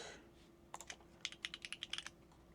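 Rapid keystrokes on a computer keyboard during embroidery digitizing work, a quick run of about a dozen sharp, close clicks after a brief pause, over a faint steady hum.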